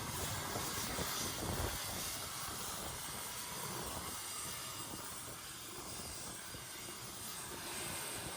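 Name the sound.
Ilyushin aircraft flying to Antarctica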